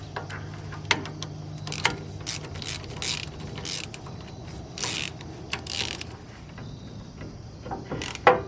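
A hand ratchet driving Loctite-coated bolts into a Dana 60 axle: close, irregular bursts of rapid clicking with short pauses between strokes, heard alone over faint background hum.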